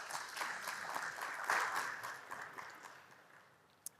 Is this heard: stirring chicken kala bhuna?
no